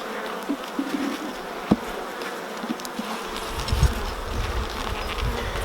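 Honey bees buzz steadily at close range while a nuc hive is opened for inspection, a continuous insect drone with a few handling knocks and no voices.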